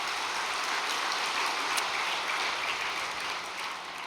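An audience applauds at a Korean lecture session with dense, steady clapping that fills the hall evenly for a few seconds, without voices.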